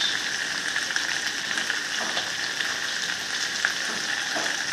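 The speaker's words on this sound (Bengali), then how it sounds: "ভেজে রাখা পটল আর আলু ছেড়ে দেবো" Fried pointed gourd and potato sizzling in hot oil in a pan, a steady close, even crackle and hiss without pauses or voices.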